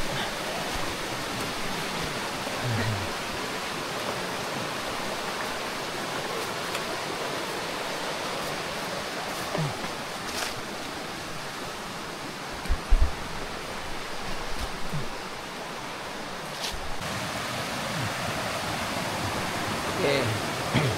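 A river rushes beside a jungle hiking trail on a long mountain trek, a steady broadband roar of flowing water filling the whole stretch with a few brief knocks and scuffs near the end.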